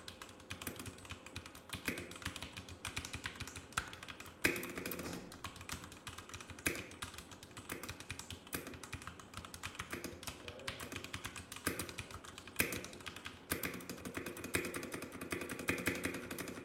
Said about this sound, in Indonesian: Kalian bisa dengerin aja ya, sambil suara keyboardnya itu kayak gimana.